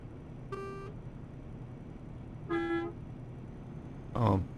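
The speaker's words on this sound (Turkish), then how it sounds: "Normal kornaya bastık." Three short truck horn honks sound at spaced intervals over a steady engine rumble in the Euro Truck Simulator 2 video game, from a DAF XG truck, the last one louder and harsher.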